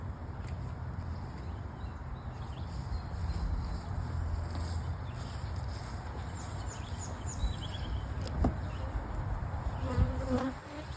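Honey bees buzz around a crowded hive in a continuous close drone, with occasional light knocks and handling noises.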